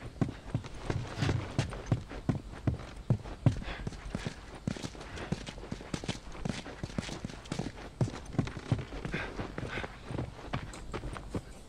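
Horse hooves clip-clop on the ground in The Last of Us, a steady irregular run of close, distinct thuds that continues without pause, with a few faint sounds in the background.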